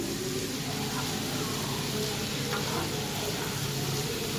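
Eggplant curry with a spoonful of ginger paste fries in a pan with a steady, dense sizzle and hiss, close and continuous, with a faint stir partway through.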